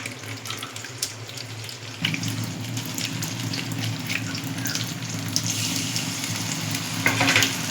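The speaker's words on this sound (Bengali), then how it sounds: "একটু জল মিশিয়ে জিরের গুঁড়ো দিয়ে দেবো।" Cumin powder mixed with water added to fried potatoes in a hot pan for a coconut and prawn curry; the sizzle rises abruptly and keeps hissing steadily, with occasional stirring clatter and no talk.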